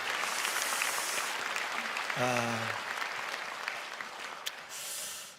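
Congregation clapping in a church during a New Year special dawn prayer service, a steady broadband wash of applause filling the whole clip, with a brief voice partway through.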